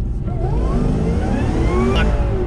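A 2017 Chevy SS roars close by on pavement, its engine revving hard while a rising whine and gritty rasp of spinning tires run steadily through the whole burst.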